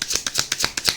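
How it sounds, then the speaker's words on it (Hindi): Tarot cards being shuffled up close, a quick run of crisp riffling flicks repeating about six times in rapid rhythm, with no talk. "लास्ट शफल है"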